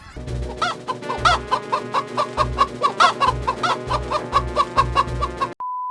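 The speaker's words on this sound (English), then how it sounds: "Look at all those chickens!" Rapid, repeated chicken clucking from Cuccos in Zelda: Ocarina of Time, in a steady rhythm, close and loud with a low pulsing backing beat, ending abruptly in a brief electronic tone.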